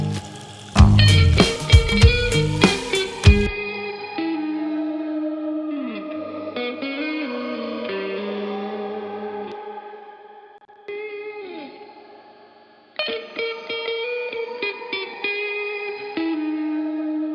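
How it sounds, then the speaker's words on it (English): A shimmering crystal choir synthesizer preset with glassy, choir-like tones swells and sustains, drenched in reverb and chorus, after a loud distorted burst at the start. "Let's try a crystal choir."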